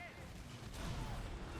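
Thunder Dragon cannons fire in a naval video game. The shots land as faint, muffled booms in a low rumbling background.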